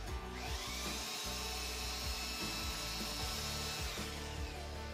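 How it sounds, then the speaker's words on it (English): Steady abrasive sanding on solid wood for a cajon drum, a continuous rough scraping hiss with a mechanical hum underneath, close and fairly loud throughout. "a lot more sanding."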